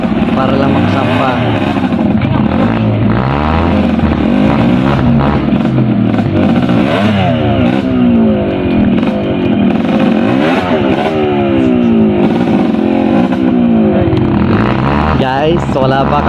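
A trail motorcycle struggles up a steep uphill dirt trail, its engine revving loudly and repeatedly in rising and falling surges, close by throughout, while people talk and shout over it.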